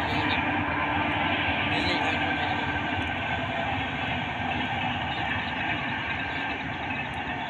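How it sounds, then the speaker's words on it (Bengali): A long train rolls along far-off tracks in the evening countryside, producing a steady, continuous rumble with a faint airy roar and no talk over it. "ওই যে ট্রেন যাচ্ছে কত দূর দিয়ে, ট্রেনটা বহু দূর দিয়ে যাচ্ছে।"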